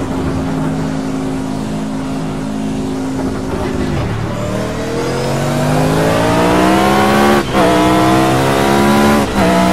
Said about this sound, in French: Là on entend bien le moteur.